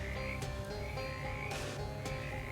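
A few distinct croaks from frogs in the game Shadows over Loathing sound over a steady background hum, two or three sharp bursts standing out clearly.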